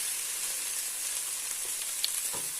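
Onions fry in a pan with a soft, steady sizzling hiss, fairly quiet and even throughout, with a couple of small pops and crackles near the end.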